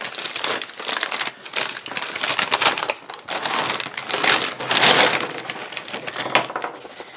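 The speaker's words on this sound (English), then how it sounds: "I'm going to dump out the bag for you" Small plastic math cubes tumble out of a bag onto a table in a continuous clattering, crinkling spill, with bursts of rattling and bag rustle lasting several seconds and no talking.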